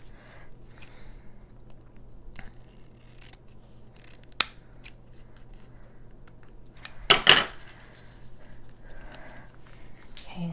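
Scissors trimming paper for a handmade junk journal, with a sharp isolated snip near the middle and a quick burst of cutting snips later, close and clear over a quiet room.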